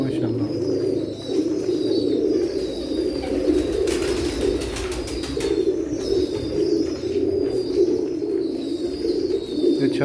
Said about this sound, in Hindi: ये बटेरा कबूतर है माशाल्लाह।